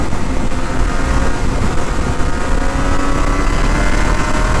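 A Triumph Daytona 675R triple sport motorcycle rides past, its steady engine drone carrying for several seconds under heavy wind buffeting on the microphone.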